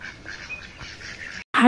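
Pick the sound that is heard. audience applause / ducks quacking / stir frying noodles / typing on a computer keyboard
ducks quacking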